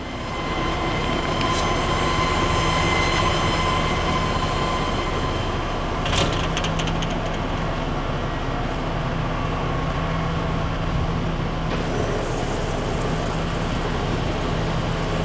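A Kitamura Mycenter HX1000i horizontal machining center runs with a loud, steady mechanical hum and whine and a few sharp clicks along the way. No one talks.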